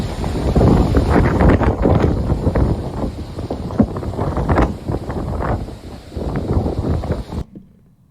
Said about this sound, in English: Bad gusts in Halifax.